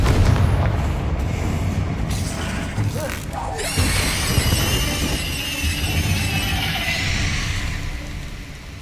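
Confringo spell blasts in the Hogwarts Legacy game, heavy booming crashes followed by a long crackling, rumbling tail, loud and dense throughout with layered game effects.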